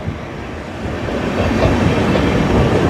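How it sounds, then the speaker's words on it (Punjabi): An electric AC passenger train rolls past close by, a loud steady rumble of wheels on rails with faint clatter building slightly as it goes. "ਇਹ ਜਿਹੜੀ ਟ੍ਰੇਨ ਆ ਇਹ ਬਿਜਲੀ ਵਾਲੀ ਟ੍ਰੇਨ ਆ ਏਸੀ ਟ੍ਰੇਨ ਆ ਪੈਸੇਂਜਰ ਟ੍ਰੇਨ"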